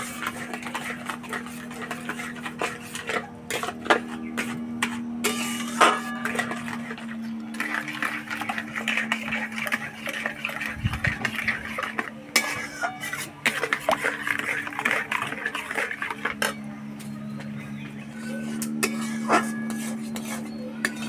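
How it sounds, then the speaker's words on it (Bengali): Mango mixture stirred while it cooks in a pan, with scraping and clinking of a utensil against the pan running steadily throughout. "এইভাবে নাড়াচাড়া করে রান্না করতে থাকবো।"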